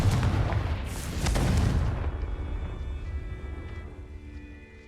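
A heavy Confringo blasting spell explodes in Hogwarts Legacy, a deep booming burst that rolls for a couple of seconds and then fades into a quiet ringing tail.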